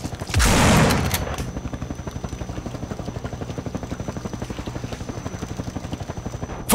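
Helicopter in the video game No More Room in Hell arriving for evacuation, its steady rhythmic rotor chop thudding throughout after a loud burst near the start, with a faint high whine above.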